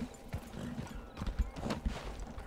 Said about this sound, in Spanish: Caballero, este es su caballo,